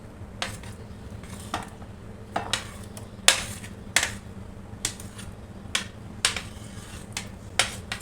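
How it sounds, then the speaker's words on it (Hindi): A spoon clinks and taps against a bowl while fruit salad ingredients are mixed, sharp irregular knocks about once or twice a second over a low steady hum, close and fairly quiet. "अब इन सब चीज़ों को मिक्स करूँगी।"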